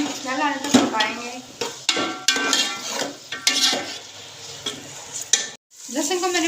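Ginger garlic paste sizzles loudly in a hot pan while a spoon repeatedly scrapes and stirs it, with irregular clattering strokes and a brief pause near the end, and a voice faintly at the close.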